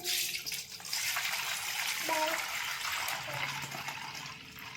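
Water splashes and pours steadily into a container of soaking wheat for kurdai, a continuous close rushing sound with a brief tonal ring partway through.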